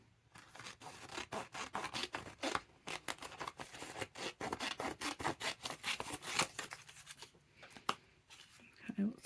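Scissors snipping paper for a junk journal, a quick run of close, crisp cutting strokes with faint rustling, while people chat quietly over it.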